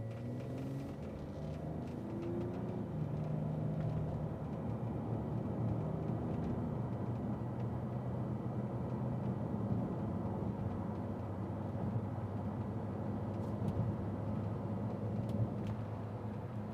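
A 2005 Bentley Continental GT accelerates through its gears, heard from inside the car as a steady, moderate low engine rumble with road noise that continues evenly throughout without talk.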